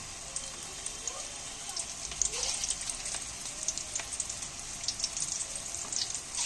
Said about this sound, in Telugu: పెద్దగా వేసుకుంటే పొంగుతాయి అన్నమాట ఆయిల్లో మునిగేలా వేసుకోండి చాలు